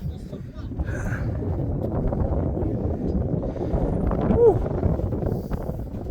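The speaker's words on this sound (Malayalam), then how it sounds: "നല്ല കാറ്റും ഉണ്ട്" Steady wind rushing across an open hilltop at Shivagange Betta, a low continuous roar that swells slightly, with faint distant voices and a brief chime near the end.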